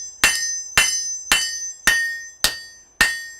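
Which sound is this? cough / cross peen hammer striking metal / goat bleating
cross peen hammer striking metal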